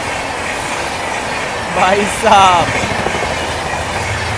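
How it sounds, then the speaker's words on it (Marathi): Jan Shatabdi train hauled by an Amrit Bharat locomotive rolls past a general coach, a steady rail rumble with a brief louder swell of rattling wheels midway; someone speaks briefly over it. "जनशताब्दी आहे, तिला अमृत भारतचं इंजिन लावलंय"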